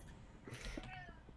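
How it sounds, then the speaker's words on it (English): A house cat yowls once in a drawn-out, rising-then-falling meow, faint and somewhat distant behind a closed door, heard briefly against low background noise. "I heard a cat."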